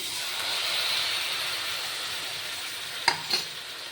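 Spices being sautéed and stirred in a pan make a steady close hiss and sizzle, with two quick clinks of a utensil near the end; no one talks.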